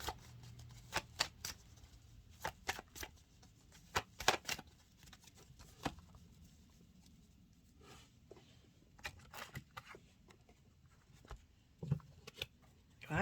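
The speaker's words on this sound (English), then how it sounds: "when I'm shuffling the deck and no cards are coming out" A deck of tarot cards is shuffled by hand in quiet repeated bursts of crisp riffling and slapping, with short pauses between them.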